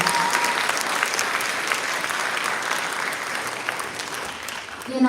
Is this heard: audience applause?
yes